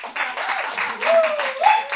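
Audience applause at an improvised stand-up comedy show: a brief, steady patter of many hands clapping, heard in a small room with a voice talking over it.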